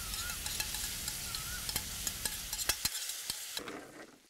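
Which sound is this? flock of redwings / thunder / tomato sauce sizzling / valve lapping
tomato sauce sizzling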